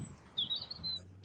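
Birds chirp outdoors at sunset: a short run of thin, high tweets, fairly faint, over a low background rumble.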